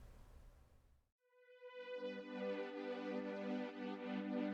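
A sustained, sidechained synth pad using the Andromeda Complex preset swells in after a brief gap. It has a rich, layered chordal tone that pulses softly in rhythm and plays alone at low volume.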